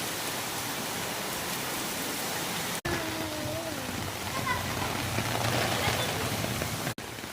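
Steady, dense rain hisses evenly throughout, a broadband wash with brief dropouts, plus a faint higher whistle partway through.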